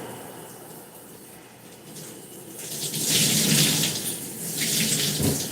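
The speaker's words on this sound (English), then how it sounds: "Big Mama in the shower, girl." Shower water runs in a steady broadband hiss that swells louder halfway through as the spray intensifies, close and continuous with no voices.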